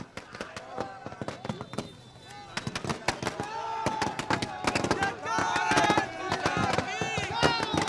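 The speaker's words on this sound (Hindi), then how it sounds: "आतिशबाजी हो रही है।" Rapid bursts of fireworks crackle and bang repeatedly, some close and loud, amid a crowd cheering and talking, celebrating India's win over Pakistan in a Champions Trophy 2025 cricket match.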